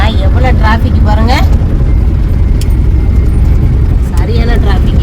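Road traffic on a busy Kerala road after Onam, a dense continuous rumble of engines with several passing horn-like tonal sweeps, loud and close, and people talking over it.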